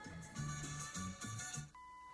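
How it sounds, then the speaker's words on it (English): A series of electronic beeps from a 1974 MGB AM car radio, about four, evenly spaced with short gaps, fairly clear, then a steady tone continues afterward. "There's our 4 beeps"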